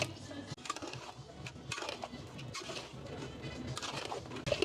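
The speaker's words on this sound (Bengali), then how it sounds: "তারপর আমি মাংসটা ওয়াশ করে নিয়েছি এখন ঢেলে দিচ্ছি" Washed duck meat tipped into a metal cooking pot gives faint clatters, soft wet thuds and light clinks of utensils against the pot over a few seconds, close and quiet.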